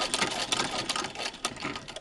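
A vintage Singer 15-88 sewing machine with a zigzagger attachment stitching a small fabric jacket, giving a steady fast mechanical chatter close up with rapid repeating clicks and no voice over it.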